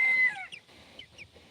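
A young Araucana English game cross pullet gives a few soft, short clucks and chirps after a brief higher call, faint and close, with no talk over it.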